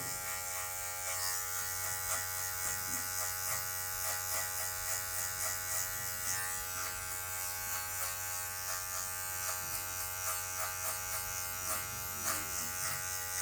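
Electric hair clipper buzzing steadily and close while cutting a taper fade on very difficult hair, the tip of the blade working the lower sides, a continuous hum with small shifts in pitch as it moves through the hair.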